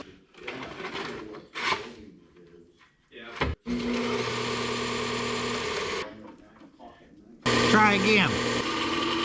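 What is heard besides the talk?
flap disc sander grinding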